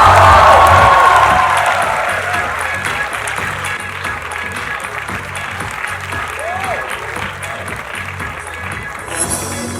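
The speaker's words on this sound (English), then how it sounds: "Ladies and gentlemen, with a huge round of applause, please welcome on stage Mrs. Jaya Bachchan!" Audience at a college festival claps and cheers for a guest taking the stage, a loud burst at the start that eases into steady sustained applause with scattered shouts.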